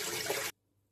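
Water pours steadily into a pot holding a cup of rice for creamy rice pudding, a dense close splash lasting half a second before cutting off to silence.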